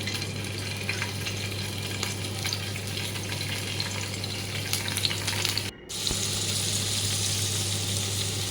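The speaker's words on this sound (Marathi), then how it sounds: "2 मिनटं आपण फ्राय करून घेऊया पनीरचे क्यूब." Paneer cubes fry in ghee in a pan, a steady close sizzle and crackle running throughout with a brief dip near the middle.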